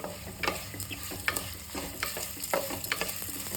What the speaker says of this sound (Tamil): இந்த பவுலில் ஒரு பவுல் சின்ன வெங்காயம் கட் பண்ணி வச்சுருக்கேன், அது போட்டுக்கிறேன்.